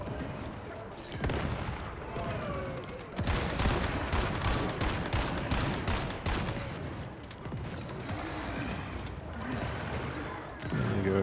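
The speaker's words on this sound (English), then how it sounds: "They're throwing grenades" Enemy grenades exploding in the video game Once Human, heavy booms and crackling blasts mixed with gunfire, loud and dense, with a voice talking over parts of it.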